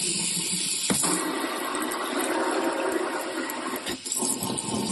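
A shower head sprays water in a steady, loud hissing stream after ultrasonic cleaning, with two brief interruptions where the flow is disturbed.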